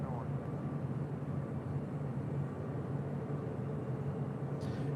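A United Airlines Boeing 757-300 departs LAX for Denver as a steady, fairly distant jet roar that holds even throughout, with a faint whine above the low rumble.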